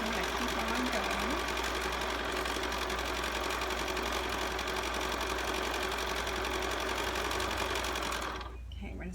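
Sewing machine stitching a 2.5 millimeter seam down the side of a double gauze infinity scarf, a loud, steady close-range whir that runs almost the whole time before stopping abruptly near the end.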